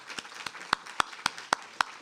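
An audience at a faculty presentation by two author-illustrators claps in a sparse, evenly spaced run of about eight distinct claps, fairly faint and moving at a brisk, regular pace.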